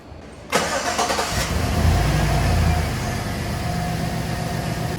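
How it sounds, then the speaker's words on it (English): A Chevy truck V8 engine cranks briefly, catches with a loud surge, then settles into a steady idle rumble close by. "I'm gonna go ahead and start the engine and turn the AC on."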